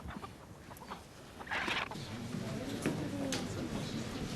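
A man imitates a cockerel crowing, a strained rising vocal call held for a couple of seconds over a noisy indoor background.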